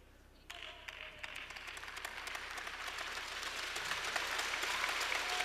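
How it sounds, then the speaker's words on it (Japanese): Spectators in an Osaka sports centre arena applaud during a T.League women's table tennis match at 10-10 in the second game. The clapping starts abruptly after a brief tone and swells into a broad, steadily growing wash of hands. "さあ、会場は大きな拍手で包まれています。"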